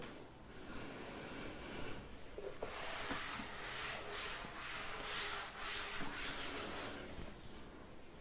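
Writing is rubbed out on a classroom board with a duster, a soft, steady scrubbing that goes on for several seconds in quiet strokes, with no speech.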